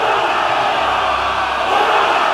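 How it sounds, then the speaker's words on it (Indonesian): A massed army lets out a sustained battle cry, many voices shouting and cheering together in a dense, loud, unbroken roar. "Sorakan pekik itu memantul di lembah dan bertabrakan dengan suara petir di atas langit"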